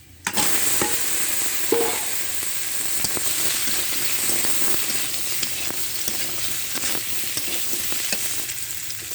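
Pieces of taro hit a hot pan and sizzle loudly and continuously, with a spatula scraping and stirring through the frying at close range.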